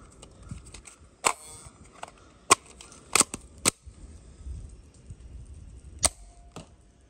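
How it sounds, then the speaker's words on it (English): A Nerf Rival Knockout blaster fires at a target about 30 feet away, giving sharp, isolated snapping pops, roughly seven scattered over the stretch with quiet gaps between, fairly close and with no talking. "I'm going to take a shot at Bessie with the original Knockout"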